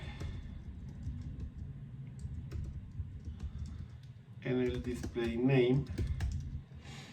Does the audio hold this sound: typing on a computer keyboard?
yes